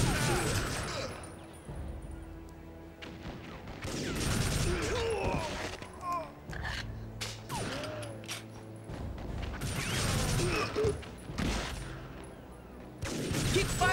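Gunfire rattles through a TimeSplitters: Future Perfect firefight, with repeated bursts and volleys, some mechanical clanks and creaks, loud and continuous across the scene with no talk.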